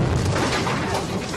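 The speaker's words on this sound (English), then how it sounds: "Prince Charles was shown how to trigger a ghetto blaster radio armed with a rocket." A film stunt sets off a rocket from inside a ghetto blaster radio on a James Bond studio set: a loud, dense, sustained explosive roar and blast rumble, heard close with no talking.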